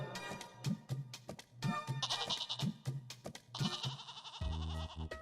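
Goat bleating in an animated Hindi comedy cartoon, repeated wavering bleats in a steady rhythm over a background music score, fairly close and clear.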